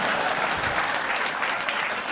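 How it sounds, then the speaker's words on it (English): Audience applause at a live mathemagic stage performance, a steady dense wash of clapping filling the whole stretch without any voices. "Let's give three of them a nice round of applause there."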